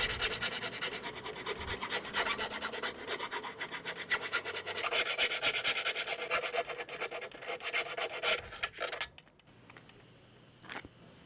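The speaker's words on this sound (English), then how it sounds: "Now we chamfer the holes with a file." A hand file rasps back and forth, chamfering drilled holes in a furling mast, with steady close scraping strokes for about nine seconds before it stops and goes quiet.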